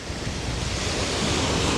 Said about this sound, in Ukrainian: під вечір море штормить, воно і не дивно. Вітер такий дебелий.